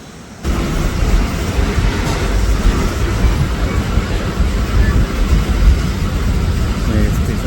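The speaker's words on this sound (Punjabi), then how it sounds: "ਆਪਣੀ ਟ੍ਰੇਨ ਜਿਹੜੀ ਆ ਚੱਲ ਪਈ ਆ" The Kalka–Ambala Cantt passenger train, no. 54532, moves off from Dappar station with a sudden rise into a loud, steady rumble and rattle heard from on board, no voices over it.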